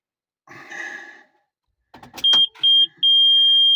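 A soft rustle, then a few clicks, followed by a high electronic warning beep from a John Deere 6610 tractor: two short tones and then one long continuous tone.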